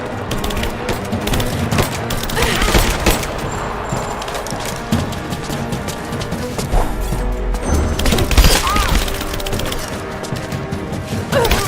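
Dense gunfire and smashing impacts in Rise of the Tomb Raider, with bursts of shots and crashes sustained loudly throughout, layered over a busy game soundtrack.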